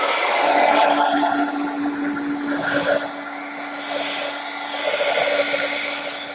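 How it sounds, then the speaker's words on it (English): A heat gun drying paint on an art journal page: a steady close fan whoosh with a faint constant hum, its airflow swelling and easing slightly as it moves over the paper. "going to use the heat gun and dry this up"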